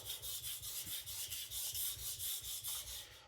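A MagnaCut chef knife edge is drawn over a sharpening stone at a shallow angle with light pressure, giving a soft, rhythmic rasping of back-and-forth strokes, close and quiet, without speech.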